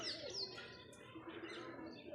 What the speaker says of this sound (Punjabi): ਇਹ ਆਪਣੇ ਕਬੂਤਰਾਂ ਦਾ ਡਿਪਾਰਟਮੈਂਟ ਆ ਗਿਆ ਇਹ ਕਬੂਤਰੀ ਉੱਡੀ ਜਾਂਦੀ